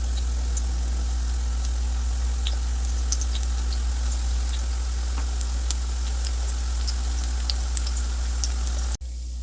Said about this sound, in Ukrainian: Формую оладки та смажу на середньому вогні під закритою кришкою.